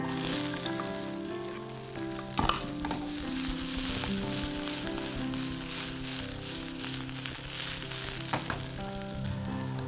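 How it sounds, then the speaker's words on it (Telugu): Garlic and peppers fry in hot oil, giving a loud continuous sizzle with a few stirring clatters and scrapes, close by and with no talk. "హీట్ అవుతున్న ఆయిల్లో వెల్లుల్లి వేద్దాం, దీంట్లో పెప్పర్స్ వేద్దాం"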